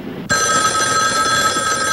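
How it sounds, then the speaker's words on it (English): A telephone bell bursts into loud, continuous ringing after a moment of quiet, a bright, steady metallic trill close by with no voices. "I've tapped this phone so that when it rings, it'll ring at the station house, too."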